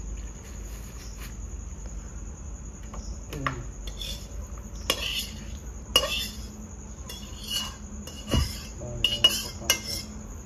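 A cooking pot of chicken kosha is lifted off the stove, with scattered metallic clinks and scrapes of pot and utensils over a steady background hiss, close and moderately loud.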